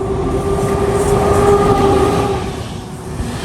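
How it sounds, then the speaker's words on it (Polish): Trains at Katowice railway station in Poland, a steady loud rumble of rolling railcars with sustained tonal hum and squeal lines over it, easing slightly toward the end. "jesteśmy na tradycyjnej miejscówce, czyli na dworcu Katowice-Katowice, to gdzie się wszystko zaczęło"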